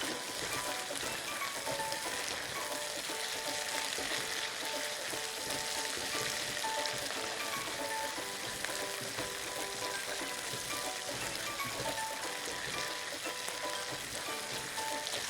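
Onions soften in a pan of hot oil for an egg fry daal masala, making a dense, continuous sizzle like rain on a surface that stays even and close throughout, with no talk.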